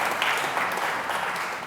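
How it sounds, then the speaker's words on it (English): An audience applauding at a community awards ceremony, dense steady clapping from many hands, close and fairly loud throughout. "Let's have a round of applause for them"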